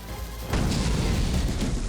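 A deep, rumbling boom swells suddenly and lingers as a broad roar for over a second, moderately distant and muffled.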